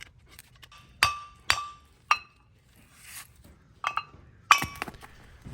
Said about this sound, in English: Use a screwdriver and a hammer to separate the rotor from the hub sub assembly.